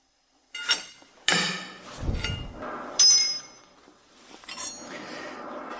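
Socket wrench on a tube working loose the fuel injector nut of a car engine, heard as close metallic clinks and clanks, a scraping grind and a sharp ratchety burst, separated by short pauses.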